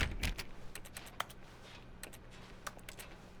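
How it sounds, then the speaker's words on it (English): Keyboard key presses in The Stanley Parable, a series of sharp, clicky taps at an irregular rhythm, close and fairly quiet over a faint hum, with no talking. "Like I'm hitting like a key on the keyboard."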